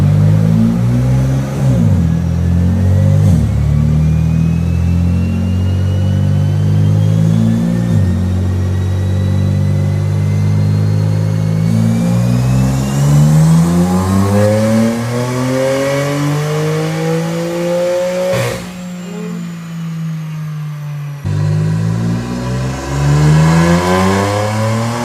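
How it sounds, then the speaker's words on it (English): BMW F80 M3 on a dyno, its engine droning loud and steady as revs sweep up through a long pull, dip, then climb again, with a sharp pop near the end and no talk over it. "It's crazy to see the F80 on a dyno."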